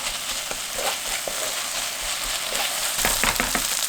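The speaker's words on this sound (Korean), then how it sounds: "재료가 잘 어우러지게 볶아주세요" Kimchi fried rice with cooked rice and sesame oil being stir-fried in a pan over medium heat, giving a steady close sizzle with scraping and stirring clatter throughout.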